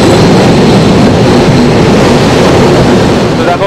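A train rolls across the Farakka Barrage near Malda, giving a loud, steady rumble with rattling wheels on the rails, heard from inside the carriage with no talk.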